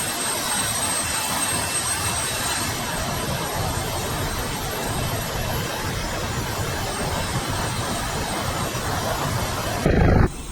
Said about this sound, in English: increase thrust of both engines to maximum